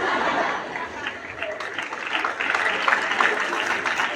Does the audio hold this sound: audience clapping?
yes